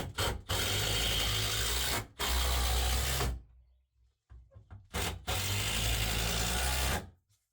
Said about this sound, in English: Little Milwaukee makes short work of it.